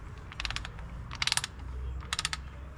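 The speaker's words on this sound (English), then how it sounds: "I'm going to torque them to 40 foot-pounds" Torque wrench ratcheting on the water pump bolts of a 2005 Dodge Dakota: three short bursts of rapid metallic clicks, each a few ticks long, close and fairly quiet over a low background hum.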